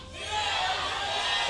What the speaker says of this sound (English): Big cheer from the CJ fans in game number 2